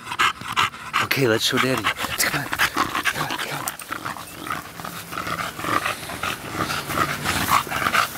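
A bulldog pants heavily and rhythmically close by, with low growls and a few small whimpers mixed in, while a person talks over it indoors.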